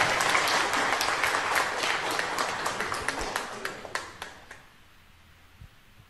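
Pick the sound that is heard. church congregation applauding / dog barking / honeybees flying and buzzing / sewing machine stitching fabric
church congregation applauding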